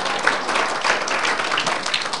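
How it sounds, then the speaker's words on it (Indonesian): A church congregation claps after a sermon, a dense, lively round of applause heard fairly close and loud across the whole moment. "Tepuk tangan dong."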